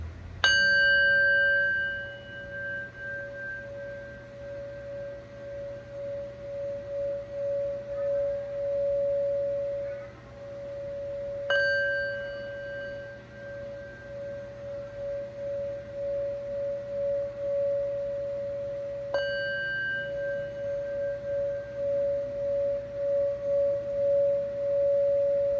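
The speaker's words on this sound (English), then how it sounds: "So I'm going to ring the gong" A gong is struck three times at spaced intervals, each hit blooming into a long, steady shimmering tone that hangs and slowly decays, alone with no talking.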